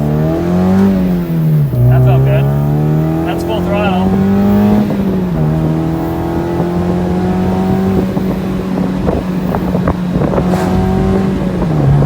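A tuned Mazda Miata with a crackle tune and raised rev limiter pulls at full throttle from inside the car, its engine drone rising through the gears with shifts and scattered exhaust pops while a voice talks over it.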